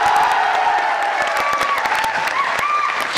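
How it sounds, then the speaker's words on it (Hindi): A large audience at a motivational talk applauds loudly and continuously, dense clapping with some cheering mixed in. "इनके लिए कैसा हल्ला और कैसी ताली होनी चाहिए?"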